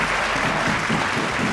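An audience at a school economics quiz grand finale applauds an official, steady dense clapping filling the whole moment with no pauses.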